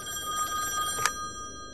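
An office telephone ringing in The Wolf Among Us video game, a bright trilling bell that sounds briefly and then cuts off, clear and close with no speech over it.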